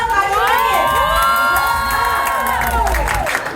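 A crowd at a hair and makeup master class erupts in loud cheering, high-pitched shouts and whoops, with a few claps mixed in, sustained and close for several seconds.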